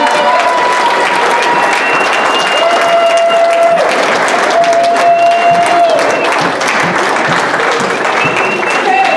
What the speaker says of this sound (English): a big round of applause for Kimberly Mansfield